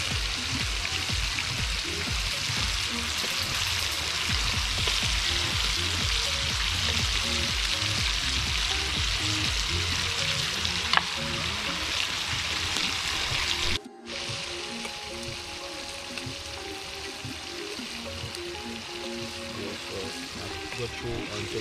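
Steady, dense sizzling of plantain frying in a pot outdoors by a river, constant and close throughout, with a brief drop partway through before the crackling continues.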